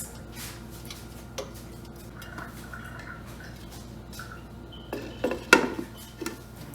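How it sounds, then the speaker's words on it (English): A lid is set on a pot of okra soup, with a few metallic clinks and a short clatter near the end over a quiet background. "So I'm going to cover this pot and let it simmer very well."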